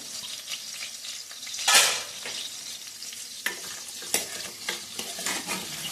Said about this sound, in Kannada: ಇದು ಎಣ್ಣೆಯಲ್ಲಿ ಫ್ರೈ ಮಾಡ್ಕೊಂಡು ಆಮೇಲೆ ಬೇಗ ಬೇಯ್ತಾರೆ